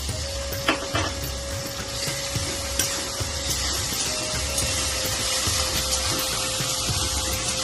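Ginger garlic paste frying with tomato in hot oil, a steady close sizzle with occasional stirring scrapes and clinks of a pan, no talking.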